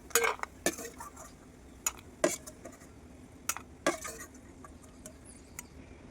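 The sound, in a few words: fried food being transferred into a bowl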